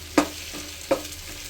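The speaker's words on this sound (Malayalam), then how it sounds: "ഈ പഴം നമുക്ക് നല്ലപോലെ ഒന്ന് വാട്ടിയെടുക്കാം" Plantain sautéing in a pan, with two sharp stirring scrapes over a low, steady sizzle, heard close and alone.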